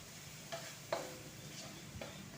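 Pork and rice vermicelli stir-fried in a pan, with a faint steady sizzle under a few soft scraping strokes of a spatula spaced about half a second apart.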